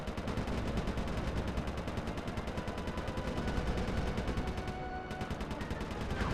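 Enemy gunfire in the video game Sly 3: Honour Among Thieves, a continuous rapid stream of shots in a steady machine-gun rhythm, fairly faint and heard alone throughout.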